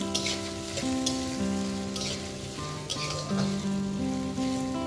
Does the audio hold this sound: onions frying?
yes